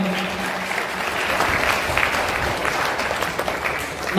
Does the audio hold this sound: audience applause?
yes